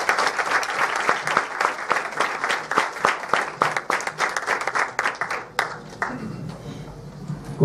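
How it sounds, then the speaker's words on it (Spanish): University lecture audience at a conference in San Pedro Sula giving a strong round of applause, a dense wash with distinct individual claps standing out, dying away after about six seconds into quiet room tone. "Un fuerte aplauso de nuevo"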